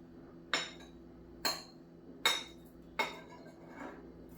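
Spoon or utensil clinks against a bowl while raw shrimp are tossed in a coconut coating, four separate sharp knocks spaced about a second apart, quiet, with no talk.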